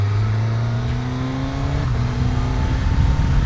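A 2024 Suzuki GSX-S1000GX sport-touring motorcycle's inline-four engine pulls hard, its loud, smooth drone rising steadily in pitch through a gear with wind rushing past.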